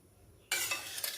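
Fish pieces rubbed with salt and turmeric hit hot mustard oil in a wok, a sudden loud burst of sizzling after a quiet start, crackling on strongly with a couple of sharper spits.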